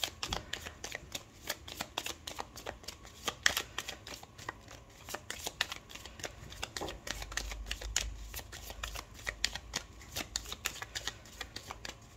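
Tarot cards shuffle quietly and close up, a run of soft riffling flutters and taps that continues through the stretch with no voice, the deck handled for a horoscope reading.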